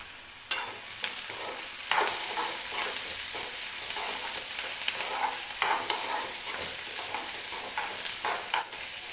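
Onions for an onion tomato chutney fry in a pan with a continuous close sizzle, punctuated by periodic scraping and tapping as a spatula stirs them.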